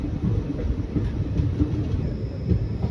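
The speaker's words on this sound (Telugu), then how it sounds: "ఇప్పటికీ మనం అరకు రైల్వే స్టేషన్కి అయితే చేరుకుంటున్నాం అనమాట." The Visakhapatnam–Kirandul Express rumbles into Araku station at night, a dense, steady low roar of rolling carriages heard up close, with no voices.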